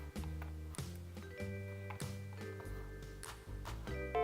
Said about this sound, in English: Sounds like I got a message on the vid phone.